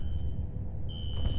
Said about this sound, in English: Investigate the cause of the fire alarm.